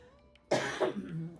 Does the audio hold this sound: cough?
yes